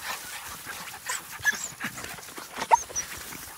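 Beagle puppies pant rapidly and let out occasional faint whimpers and yips, soft and close against light outdoor background noise.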